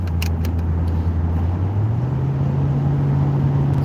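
Steady interior engine hum of a car driving away from a park and ride lot, with a low drone that rises in pitch as it accelerates and a brief jingle near the start.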